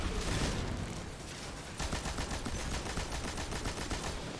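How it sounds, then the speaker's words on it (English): Rapid sustained machine gun fire in Destiny 2 while clearing a room, a dense, continuous burst of shots running throughout without a break. "using my machine gun to clear out the room"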